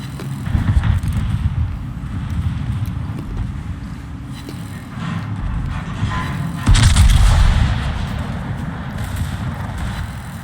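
The secondary guns of the battleship Sicilia fire in a video game, producing repeated low, heavy thumps and booms over a rumbling background, with a louder burst partway through.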